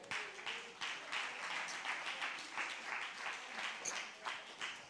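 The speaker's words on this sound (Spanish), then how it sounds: "denle un aplauso al Señor." Clapping from a church congregation fills the space with steady, dense applause, fairly even in volume, with faint voices mixed in.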